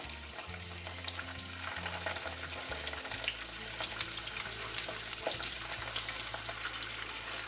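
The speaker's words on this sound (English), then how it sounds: "We're going to place our fish in." Congolese salted fish, makayabu, fries in hot oil in a small pan, a soft continuous crackling sizzle with scattered pops, fairly quiet and steady, while a low hum runs underneath.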